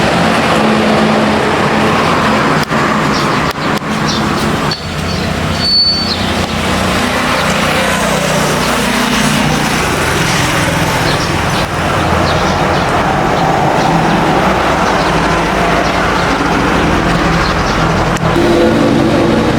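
A Kymco Top Boy 100cc two-stroke scooter with a faulty CDI idles and runs close by as a steady, busy engine drone, holding even and unbroken for about twenty seconds with no talk over it.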